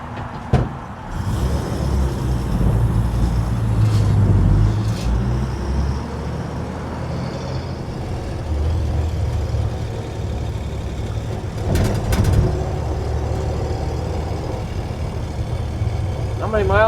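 A 1952 Chevrolet pickup truck driving down a freeway: a steady engine and road drone with rushing tire noise, some passing traffic swells, and a few brief clunks and hisses along the way.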